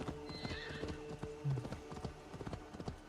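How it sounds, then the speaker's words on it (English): A horse gallops in the video game Assassin's Creed Valhalla, its hooves clopping in a quick steady rhythm with a brief whinny partway through, close and moderately loud over soft background music. "And also on a horse."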